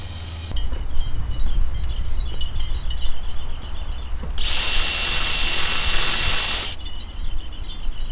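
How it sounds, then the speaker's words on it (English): A power drill whines loudly into a metal vehicle roof for a couple of seconds over a constant low background rumble. "looks like that's it for the drill. Ended on a 3/8 inch drill bit."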